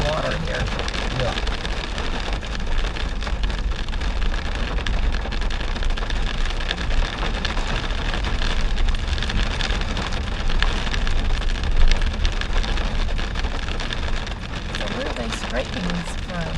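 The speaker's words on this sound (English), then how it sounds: "And then the rain and more water running down" Heavy rain pours down steadily on a drive into Ouray, with a constant dense hiss of falling water and water running down close to the microphone.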